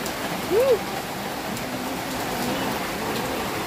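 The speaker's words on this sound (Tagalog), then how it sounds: "Sobrang lakas ng ulan." Heavy rain pours steadily as a dense, even wash across the whole span, with a brief voice-like murmur early on and no pause in the downpour.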